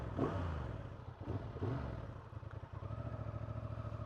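A 2024 Honda Transalp 750 motorcycle engine runs close by, a steady low rumble with a few throttle blips and rising revs at the start, then settling into an even, throbbing idle.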